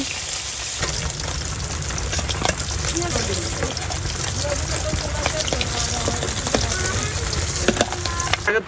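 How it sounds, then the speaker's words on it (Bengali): Small river fish frying in hot oil in a home kitchen, a steady dense sizzle with occasional pops and stirring clatter throughout, close and fairly loud. "মাছগুলো ভাজা হয়ে গেছে, এখন নামিয়ে নিব।"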